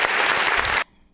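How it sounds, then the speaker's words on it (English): A short burst of rough applause during a live on-air broadcast, dense and loud, cutting off abruptly after under a second. "That was a rough applause there"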